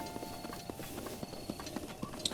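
Horse hooves clip-clopping in a Zelda game, a quick irregular series of soft thuds at a walking-to-trotting pace over quiet game background, with no voices.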